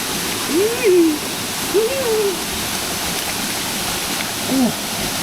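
Steady broadband rush of Jed Kot waterfall in Saraburi, Thailand, continuous and close, with a few short voice-like calls rising briefly over the falling water.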